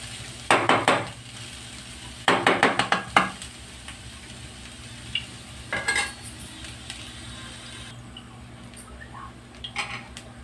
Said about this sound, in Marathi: खोबऱ्याचा खीस आणि तांदूळ आपला छान रोस्ट झालेला